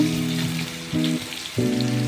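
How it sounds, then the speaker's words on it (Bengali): Chopped onions hit hot oil with whole spices in a pan, giving a steady sizzling hiss that swells and eases under background music. "পেঁয়াজ কুচি দিয়ে দিচ্ছি"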